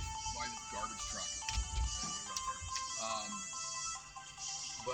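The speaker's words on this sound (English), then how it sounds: "that was my phone again. Somebody messaged me." A phone message notification chimes in a car during a freeway drive, a short melodic ringtone-like tone sounding over road noise with faint talk beneath.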